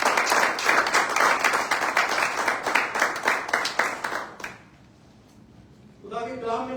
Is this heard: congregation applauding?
yes